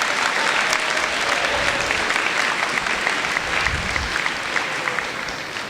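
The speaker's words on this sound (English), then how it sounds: "can I have a round of applause for all these young people who've stood up this morning?" An audience in a town hall meeting gives a sustained round of applause for young speakers, with thick, continuous clapping from a large room and a faint murmur of voices underneath.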